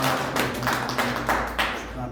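A church congregation in a Korean church in Mexico gives a short burst of applause. A few distinct, sharp clap-like hits stand out over a faint hum, with a voice faintly present.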